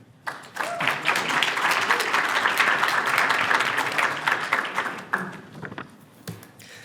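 A crowd applauds steadily for several seconds, dense clapping that thins into a few scattered claps at the end.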